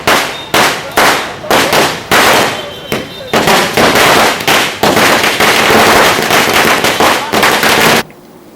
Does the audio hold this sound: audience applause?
no